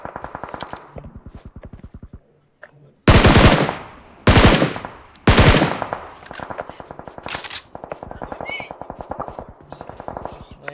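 Automatic weapons fire rapidly in a battle royale video game, with long rattling bursts broken by three heavy, loud blasts around the middle. The shooting is close and dominant, and a brief pause comes before the loudest shots.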